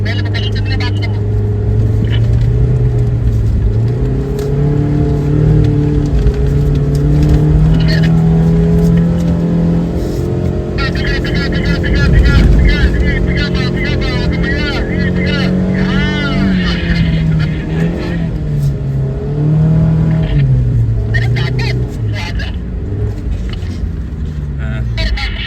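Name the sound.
Nissan Xterra engine revving off-road in desert sand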